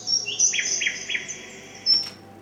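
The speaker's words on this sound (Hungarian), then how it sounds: "Most egy oktávval lemélyítjük a mi madárhangunkat." Bird song pitched down by an octave, a series of slow, eerie whistled notes and sliding chirps, fairly clear and alone, ending with a brief sharper burst.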